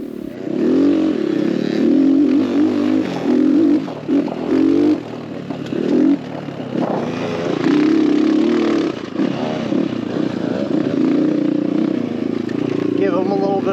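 X Pro Templar 250cc Chinese dirt bike ridden along a trail, its engine droning and rising and falling with throttle changes, loud and steady throughout with wind noise and some clatter.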